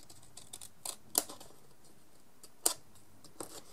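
Paper being cut along a scored line while making a small chocolate box, with a few crisp, separate snips spread across the moment against a quiet background.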